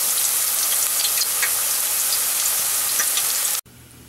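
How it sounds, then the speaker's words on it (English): Thin homemade potato chips sizzle and crackle loudly in hot frying oil, a dense, steady hiss with scattered pops that cuts off abruptly near the end. "Lower those into the fry and hear that nice sizzle."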